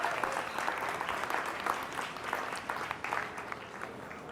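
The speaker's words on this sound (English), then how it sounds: "can we give this entire big group here a big round of applause?" Sustained applause from an audience at a 2019 beef cattle show, dense steady clapping that fills the whole stretch at moderate loudness with no voices on top.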